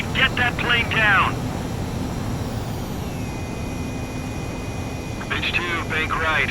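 Fighter jet engine in Ace Combat 7, a steady broadband roar with a rising then level whine, running under radio chatter voices at the start and end.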